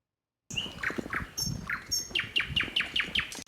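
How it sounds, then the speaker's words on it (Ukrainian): Nightingales sing before dawn on a Donetsk front line, a run of bright, repeated chirping phrases rising and falling close by, with a steady rhythm of sharp notes over a low rumbling background. "Солов'ї заливаються співом."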